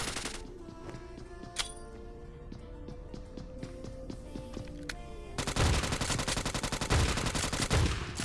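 Shotgun and UMP fire in the Scarfall video game, with sporadic sharp shots and clicks over a game backdrop, then a dense, loud burst of rapid automatic fire in the final seconds.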